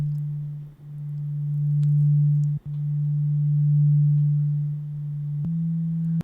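A steady, pure low sine tone hums continuously, briefly dipping a couple of times, with a faint chirp near the end.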